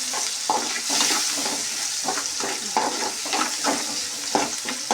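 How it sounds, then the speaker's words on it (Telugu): A spoon stirs turmeric into a dried bommidi fish curry base frying in a pan. Steady oily sizzle runs throughout, with soft, repeated scraping strokes every half second or so, close by and with no talking. "పసుపు వేసుకున్న తర్వాతకి కొంచెం కలుపుతాను."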